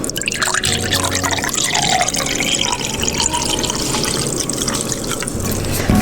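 Starry soda from a SodaStream pours into a glass with a continuous close splashing trickle and fizzing hiss that runs steadily for about six seconds.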